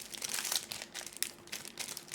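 A Yu-Gi-Oh card slid into a plastic sleeve gives a soft, continuous crinkling rustle of thin plastic, up close and alone, with one small sharp click partway through.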